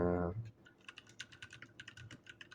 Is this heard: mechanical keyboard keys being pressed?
yes